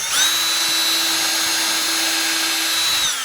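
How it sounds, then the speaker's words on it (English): A power drill whines steadily as it bores a hole through a wooden instrument neck, one loud continuous run with a stable pitch that winds down at the end. "We're going to drill these holes all the way through"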